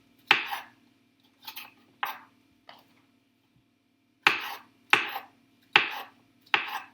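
Mushrooms sliced roughly with a knife on a cutting board: sharp, close chopping knocks, three in the first couple of seconds and a faint fourth, then a pause and four more evenly spaced cuts, with no talking.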